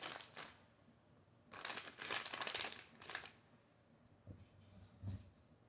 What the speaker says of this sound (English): Got some mozzarella spread out.